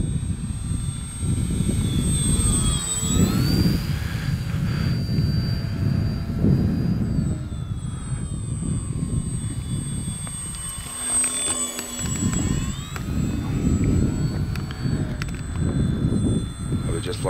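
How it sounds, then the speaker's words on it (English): Vintage-style Scorpio Miss Bipe RC biplane, about 1.08 m span, flying low past in wind with a steady engine drone that rises and falls in pitch, continuous and fairly close, with someone talking over it. "I will just fly in front of you, Captain Blush."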